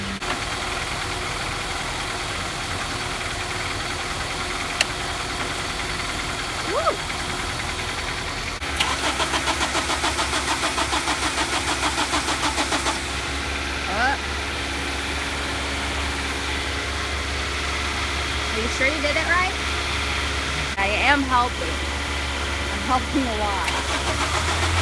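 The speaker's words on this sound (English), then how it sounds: "you can't turn on my car?" A car engine being cranked and trying to start, with a repeated rhythmic starter whirr, then a low rumble as it catches and idles, close by with people talking over it.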